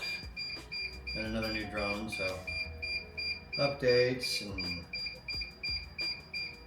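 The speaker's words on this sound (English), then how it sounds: "There's a whole lot of beeping going on in here." Repeated electronic beeps in steady high tones sound through the room while someone talks over them, the chirps continuing in a regular pattern.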